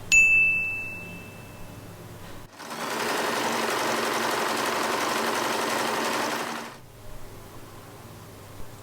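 A sewing machine runs a straight seam along folded fabric for a bow, a steady, even whir for about four seconds between quiet stretches, with a faint ring just before it starts.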